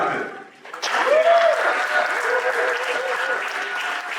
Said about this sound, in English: Big round of applause for the ear doctor.